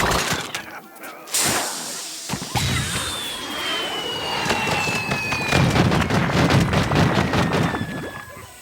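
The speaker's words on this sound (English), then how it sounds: "there he's throwing a baked potato to call in an airstrike of butter, I think it's called butter barrage" Corn-themed weapons and a butter barrage airstrike from Plants vs. Zombies Garden Warfare 2: sharp cracks and whip-like bursts, a descending whistle, then a rumbling barrage of explosions and crackling impacts, loud and dense.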